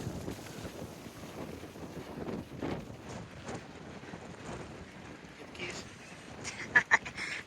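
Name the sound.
strong wind at False Cape park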